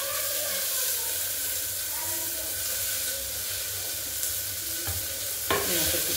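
Onions hiss and crackle in a hot pan for Telangana mutton curry, a steady moderate sizzle with a couple of sharp clinks from a utensil near the end.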